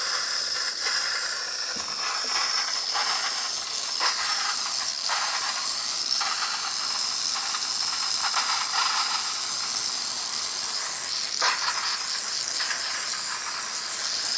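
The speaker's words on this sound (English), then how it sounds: "Great pressure coming out of the steamer." A repaired Saeco coffee machine's steam wand lets out a loud, steady hiss of pressurized steam that runs unbroken and close-up throughout, with no talking.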